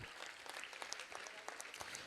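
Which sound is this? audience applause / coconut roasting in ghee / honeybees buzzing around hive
audience applause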